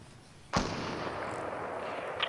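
A single crisp gunshot in Fortnite cracks out near the start, followed by a lingering noisy tail and a faint later pop in the background.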